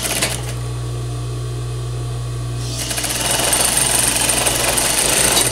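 A sewing machine stitching a narrow French seam, with a low steady motor hum that gives way to a louder, buzzing run of stitching partway through, close and continuous.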